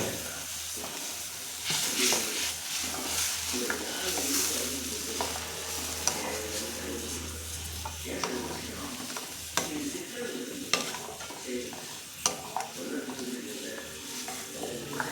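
Egg gravy with sambar powder and chilli powder being stirred in a pan, with a constant sizzle, hiss and steam under repeated scraping and clinking strokes of the spoon.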